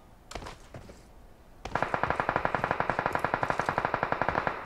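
Rapid automatic gunfire in the battle royale game PUBG Mobile, a steady string of evenly spaced shots fired close and loud after a few scattered earlier pops, with no talk.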